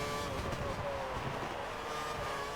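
Formula 1 car engine in the F1 2013 racing game at the Monza Grand Prix, a steady high-pitched whine that holds loud and close throughout without clear breaks.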